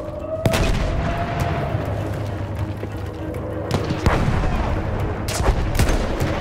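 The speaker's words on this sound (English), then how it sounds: "Grenade!" A grenade explosion and gunfire in the World War I shooter Battlefield 1, with sharp shots scattered over a dense, loud battle rumble and a cluster of heavier bangs near the end.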